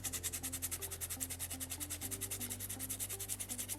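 Sandpaper rubbed steadily over a small soapstone orca carving, a fast, even back-and-forth scratching rhythm that runs close and continuous under a low steady hum, with no talking.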